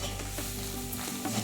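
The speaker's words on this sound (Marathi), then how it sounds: "मसाला चांगला परतून घ्यायचा" Masala with turmeric and peanut powder being stir-fried in a pan for a homemade brinjal curry gives a close, dense sizzle with scraping stirring strokes, continuous and without speech.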